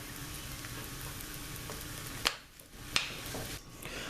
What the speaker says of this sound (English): We're going to add the ground beef. And we're going to chop the ground beef up.